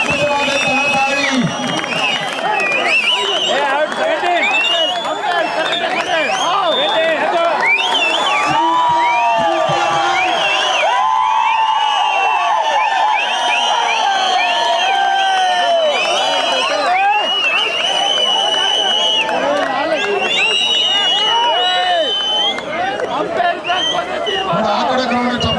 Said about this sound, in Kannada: ಆ ಕಡೆ ಗ್ರೌಂಡ್ ಚಪ್ಪಾಳೆ ಹೊಡಿತಾವೆ, ನೀವು ಹೊಡಿತಲ್ಲ